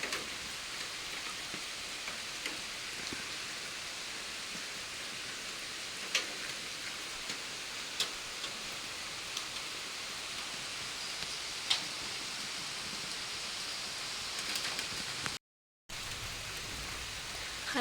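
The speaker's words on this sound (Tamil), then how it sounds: "மழை ஸ்டார்ட் ஆயிடுச்சு" Steady rain falls outside a new home in the evening, a soft continuous hiss with occasional sharper drip ticks, heard alone without voices.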